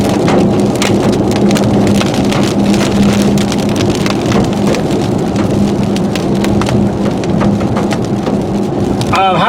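Heavy storm near Kit Carson, Colorado, with dense hail or rain drumming steadily on surfaces for the whole stretch, loud and close, and rumbling thunder running underneath.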